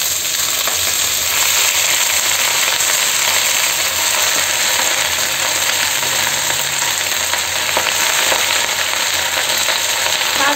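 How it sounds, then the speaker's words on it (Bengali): Mustard greens frying in a pan, a loud steady hiss and crackle of sizzling oil with occasional stirring clicks, continuous and close. "এবার আমি শাকটা দিয়ে দিচ্ছি"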